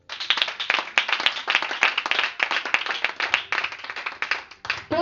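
A church congregation claps in quick, lively rhythm for several seconds, the close, steady applause carrying a few faint cheers and no talking.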